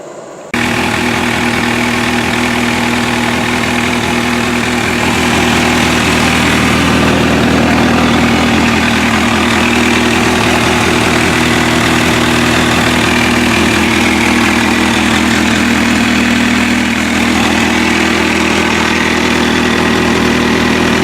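An MV Agusta F4 1000S motorcycle engine fires up after a brief moment and settles into a loud, steady idle with a deep, even rumble that runs on unbroken.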